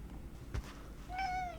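A single short cat meow rises and falls, close but fairly quiet, after a faint click.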